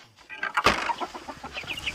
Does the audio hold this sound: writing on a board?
no